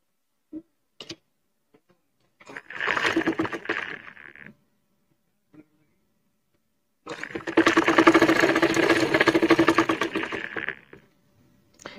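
A sewing machine stitches a bolster pillow cover in two bursts, a short run of rapid clattering stitches followed after a pause by a longer steady run, with a few small clicks and taps around them.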